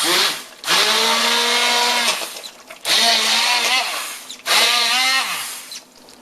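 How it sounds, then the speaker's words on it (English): An electric hand blender whirs in three loud bursts of a few seconds each, blending softened butternut squash soup, its motor pitch rising as it spins up, with short pauses between. "you can take a hand blender"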